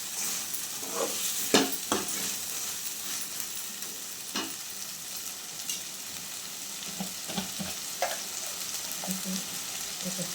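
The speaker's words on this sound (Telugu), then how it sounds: "ఇప్పుడు 2 నిమిషాల పాటు అలాగే ఉడకనిద్దాము." Andhra-style chicken pulusu curry simmering and sizzling in a pan, a soft continuous fry with occasional spoon scrapes and stirring clinks, close and fairly quiet.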